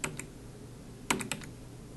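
Several sharp keystrokes on a computer keyboard, a couple of isolated taps early on, then a quick cluster of clicks, close and clear over a faint steady hum.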